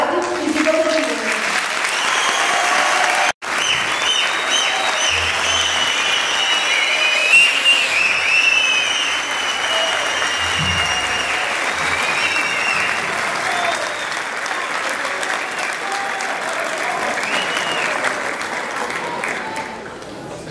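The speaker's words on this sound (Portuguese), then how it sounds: "convidamos vocês a aplaudir a todos nós" Sustained applause fills the hall at an automotive maintenance technical course graduation ceremony, a loud, continuous roar of many hands clapping, with faint voices and a few cheers threaded through the crowd.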